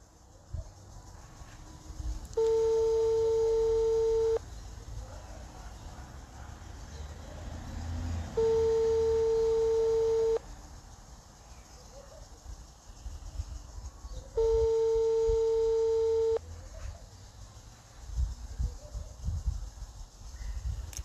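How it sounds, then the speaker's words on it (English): Unanswered phone call ringback tone: three steady long beeps, each about two seconds, repeating at regular six-second intervals over faint outdoor background noise with passing traffic. "Phone iri kuti not answered."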